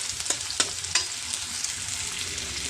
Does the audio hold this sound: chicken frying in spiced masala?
yes